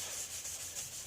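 Quiet rhythmic sanding on a cloudy car headlight lens, a soft repeated scratchy rub in short back-and-forth strokes, close and faint with no voices.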